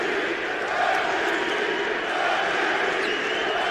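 A Chicago basketball arena crowd yells and chants for Derrick Rose, a sustained, roaring mass of voices rising and falling in waves with no break.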